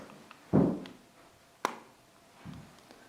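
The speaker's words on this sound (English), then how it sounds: "Let's flip it open and flip it closed." A Motorola Razr flip phone in Blush Gold is flipped open and shut, giving a few soft, close clicks and taps separated by quiet pauses.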